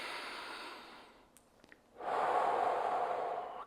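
A person takes deep belly breaths, a long, airy exhale fading out, a brief quiet with small sniffs, then another full, steady breath, close and alone.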